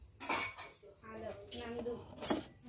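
A small steel mixer jar clinks and knocks a few times close up in a home kitchen where dal is being prepared, with sharp metallic taps between stretches of talk.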